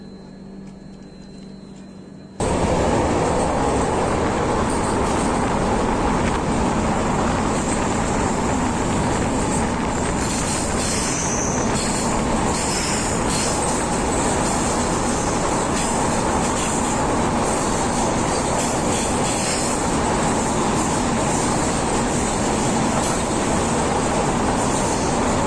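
A weekly express train from Shri Mata Vaishno Devi Katra to Chennai Central rolls on its rails with a loud, steady rumble and clatter. It starts abruptly after a quiet opening and then continues unbroken for the rest of the clip.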